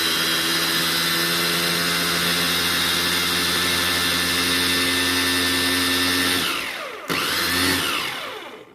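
A kitchen appliance whirrs loudly and steadily while blending potato sauce made with pepper, holding an even motor drone before winding down, briefly cutting out and restarting for a short final spin.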